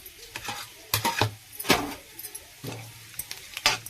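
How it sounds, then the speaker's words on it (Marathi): Garlic, cumin and mustard seeds hit hot oil in a Marathi home kitchen while a bean amti is being made, giving bursts of crackling sizzle with sharp pops spaced through the clip. "तेल गरम झालेलं आहे तर आता मी लसूण टाकून घेते जिरं आणि मोहरी टाकून घेणार आहे"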